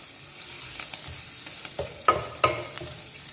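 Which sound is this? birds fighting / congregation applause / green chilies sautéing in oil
green chilies sautéing in oil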